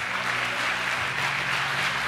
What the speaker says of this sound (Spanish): ¿Le puedes dar un aplauso a Jesús por eso?